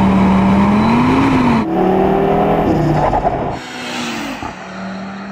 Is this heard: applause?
no